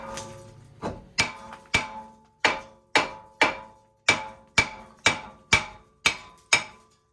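Hammer blows beating a front brake rotor loose on a 2013 Honda CR-V, about thirteen sharp metallic strikes at a steady, roughly half-second rhythm, loud and close with no talking.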